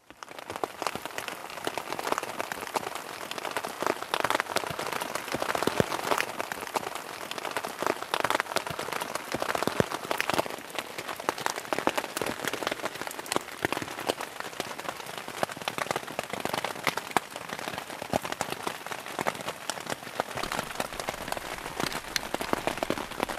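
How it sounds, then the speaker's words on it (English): Steady rain patters on a lake and surroundings during a canoe trip at Kilefjorden, Norway, a continuous dense hiss of drops close by with no voices. "There should be rain all day"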